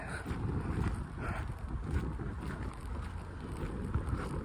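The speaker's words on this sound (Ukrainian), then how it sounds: "щось вітер якийсь взявся" Steady wind rushing and buffeting across the microphone outdoors in Oxford, a continuous low roar with gusty swells, no voices.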